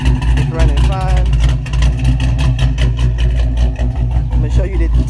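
A Pontiac GTO engine idles at a steady, rough low rumble with a running-hot fault, loud and close, as someone talks over it.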